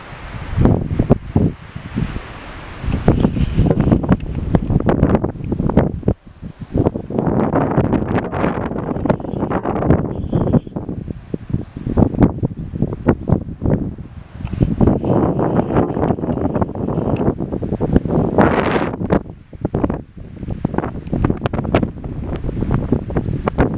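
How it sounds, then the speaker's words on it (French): Strong, gusty wind buffets the microphone nonstop, a loud low roar with bursts and dips, and faint rustling beneath it. "mettre un peu à l'abri du vent parce que ça souffle un peu beaucoup"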